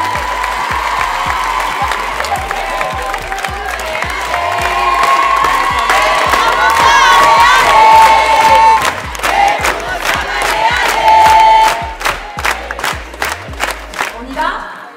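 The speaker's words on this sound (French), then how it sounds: "On va applaudir Sam, s'il vous plaît." Backstage crowd of performers at a dance studio show applauding and cheering for a dancer named Sam: sustained dense clapping with whoops and shouts, building and then breaking into scattered claps and cries toward the end.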